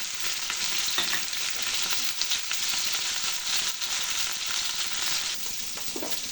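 Ginger-garlic paste, turmeric, chili and green chilies fry in oil for a fish, potato and taro curry, a dense, close sizzle broken by repeated scraping strokes of a stirring spatula, with no talking.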